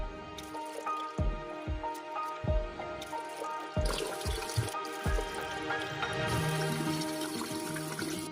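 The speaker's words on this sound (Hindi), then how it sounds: "3 कप चावल को अच्छी तरह धो लेंगे।" Three cups of rice being washed by hand in water, with repeated wet sloshes and drips close by, some louder splashes, and a steadier running-water sound toward the end.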